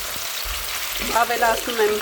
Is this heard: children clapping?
no